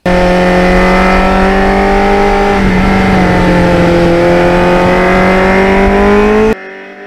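A restored 1989 Kawasaki Ninja 750R motorcycle drones loudly and close on the open road, its engine note holding steady with a slight dip and rise in pitch before cutting off abruptly near the end.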